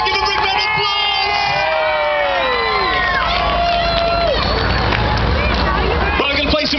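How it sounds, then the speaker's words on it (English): A big outdoor bonfire-night crowd cheers and claps after a marriage proposal, a dense, loud wash of whoops, shouts and applause that carries on throughout, with voices gliding over the noise. "Give a big round of applause."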